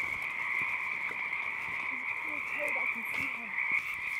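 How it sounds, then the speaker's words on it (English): Loud frogs or toads calling from a swamp pond, a dense steady chorus of high trilling croaks with scattered lower individual croaks, close and continuous. "it's just a pond of really loud frogs or toads"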